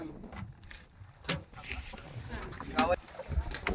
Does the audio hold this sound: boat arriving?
yes